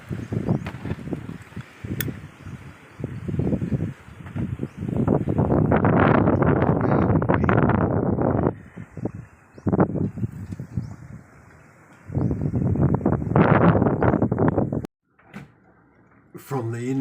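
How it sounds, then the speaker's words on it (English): Strong gusty wind on a beach roars and buffets the microphone in long, heavy surges, easing briefly between blasts before picking up again. "it is so windy here"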